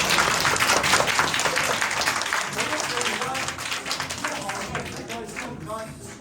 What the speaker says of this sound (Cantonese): 我哋再一次熱烈掌聲俾今晚